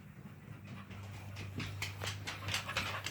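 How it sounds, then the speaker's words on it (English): A dog pants quickly and softly nearby, with faint shuffling and a low background hum underneath. "I got the dog in here"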